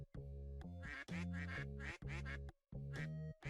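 A cartoonish duck quacks in a quick string of loud, nasal, honking calls, several in a row with short gaps, clear and close.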